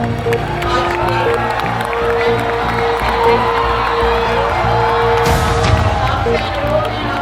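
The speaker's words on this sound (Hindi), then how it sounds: "तालियों के साथ" An audience at a school annual function at Central Public School in Azamgarh cheers and applauds in a continuous, loud wash of crowd noise, with a sharper burst near the end.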